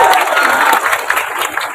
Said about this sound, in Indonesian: Mantap, tepuk tangan kasih dia.